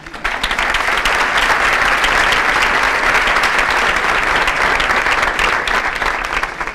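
Sustained loud applause from a symposium audience, dense steady clapping from a large crowd filling the room for several seconds before tapering slightly at the end.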